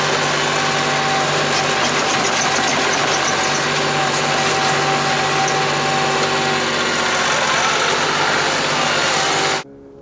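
A KIOTI tractor engine runs steadily and loud up close, a constant droning hum that cuts off abruptly near the end.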